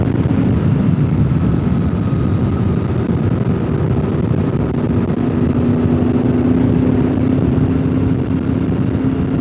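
A 2000 Honda VFR motorcycle is ridden at a steady cruise, its engine drone a continuous, even hum blended with heavy wind rush, with no talking.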